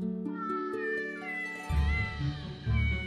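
A cat character in the video game The Purring Quest gives a drawn-out, wavering meow followed by shorter mews, clear and close over soft game background music.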